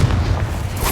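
A Confringo fire-blast spell detonates in Hogwarts Legacy, a short, heavy boom with a deep rumbling body that fills the whole moment at steady loudness.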